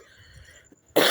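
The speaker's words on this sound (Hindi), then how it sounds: "मुझे ना खांसी लगी हुई है।" One sharp, loud cough bursts out at the end, following quiet kitchen background while onions are browning for aloo gobhi.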